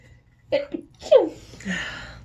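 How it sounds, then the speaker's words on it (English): A single close sneeze with a sharp inhale beforehand, then a short breathy exhale in an otherwise quiet room. "Hold on, I'm going to sneeze"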